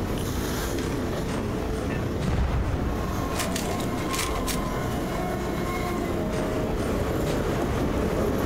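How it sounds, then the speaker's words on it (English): A train rumbles across a bridge in the game Half-Life 2 MMod, a loud, continuous rolling roar with faint clattering that fills the whole stretch without pause. "Oh, that's a train going over the thing."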